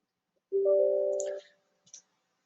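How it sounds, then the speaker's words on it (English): A computer mouse double-clicked on a Windows PC, heard as two quick, faint clicks just after a brief sustained electronic tone. "So I'll double click it now"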